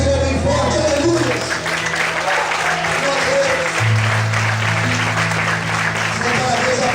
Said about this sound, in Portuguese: Você pode aplaudir o Senhor bem forte, aleluia.